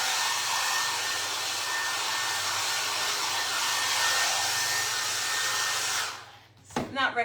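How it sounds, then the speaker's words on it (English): A hair dryer blows steadily for about six seconds to dry paper mache fabric boxes, then cuts off, followed by a few brief knocks and rustles. "run the hair dryer just to kind of get it to go"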